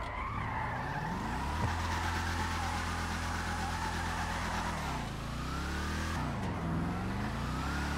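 Bravado Gauntlet Hellfire muscle car in GTA Online roars at high revs with a steady engine drone, tyres squealing and skidding through drifts as the pitch dips and climbs again.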